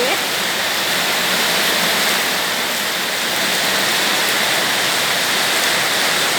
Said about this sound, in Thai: คลิปนี้ก็เอาบรรยากาศฝนตกเนาะค่ะเนาะ